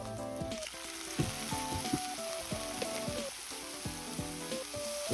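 Mountain udo sizzles in a hot pan after a spoonful of cooking sake is added, a close, steady crackling hiss with occasional stirring, while tonal background music plays underneath.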